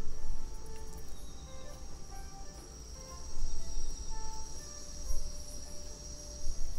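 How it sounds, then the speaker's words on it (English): Night insects and bush crickets keep up a steady chirping and high buzzing in the video game Empires of the Undergrowth. A low rumble lies beneath it, and the layered din runs without a break. "Night falls, and under the cloak of darkness, velvet worms, bush crickets, and harvestmen emerge from their hiding places."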